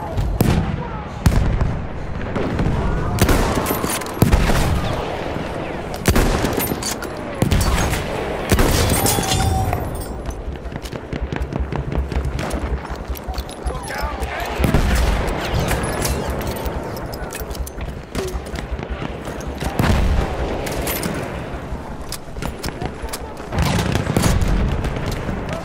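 Enemy machine gun fire in the Battlefield 1 video game: repeated loud bursts and booming blasts, some near and some farther off, come in waves throughout with a dense battlefield din.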